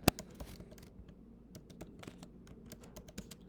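Quiet, steady typing on a computer keyboard at a desk, with rapid close key clicks and a sharper tap at the start, no voices.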